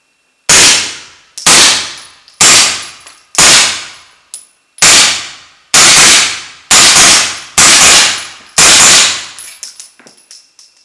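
A CZ Scorpion Micro with an integral suppressor fires 147-grain rounds: about nine loud, close, sharp cracks, each ringing briefly, spaced roughly a second apart, then a few faint metallic clinks.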